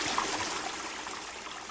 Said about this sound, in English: So this is just the sound of the ambisonic microphone capturing the river.